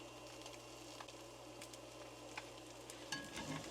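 Eggs frying in a HexClad pan, a quiet continuous sizzle with faint crackles and a low hum in the background, and a brief scrape near the end.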